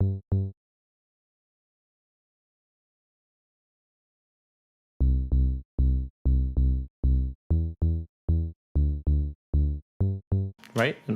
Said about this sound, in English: he uses a bass, which again is very simple.